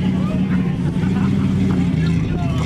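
A Jeep Grand Cherokee ZJ on 36-inch Super Swapper tires with a homemade long-arm lift drives toward a mud hole, its engine a steady low drone. A crowd chatters in the background.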